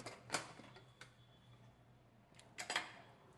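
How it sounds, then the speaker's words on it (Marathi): Metal lid lifted off a pressure cooker after four whistles with cooked wheat inside, giving a few sharp close clinks and clatters spread out in a quiet kitchen. "आता कुकरचं झाकण काढून बघू"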